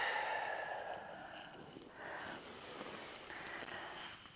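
Slow, breathy exhalations during a seated yoga forward fold, soft and close, rising and falling in a few long, airy breaths with no talking.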